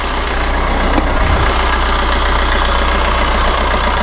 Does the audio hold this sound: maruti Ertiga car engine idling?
yes